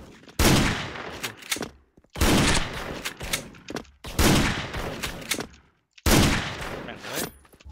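An M200 sniper rifle in the shooter game Special Force fires four loud, evenly spaced shots, each a sharp crack trailing into a long echoing decay.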